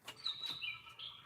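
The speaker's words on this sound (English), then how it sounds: "I hear you, bird." Several quick, bright bird chirps in a short sequence, fairly faint and heard alone over a quiet room background.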